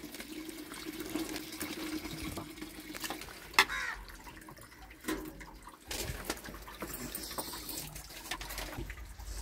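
Tomatoes being rinsed by hand in a bucket of plain water, giving a steady close sloshing and swirling of water with a few sharper splashes partway through.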